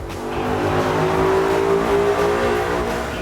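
Loud, steady engine roar held at high revs, a 2014 Mustang GT running hard on a dyno in one continuous pull with a rising whine, close by.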